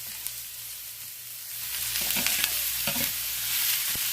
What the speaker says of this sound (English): it's about there because you can hear how it's sizzling